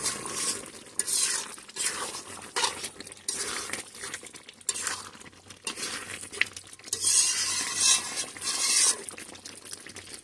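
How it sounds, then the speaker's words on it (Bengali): Beef being stirred in a cooking pot for a bhuna curry, giving a steady run of scraping, rustling bursts with faint liquid sizzle, close and fairly loud, with no talking. "এখন আমি মাংসটা ভালো করে নেড়ে চেড়ে দেব।"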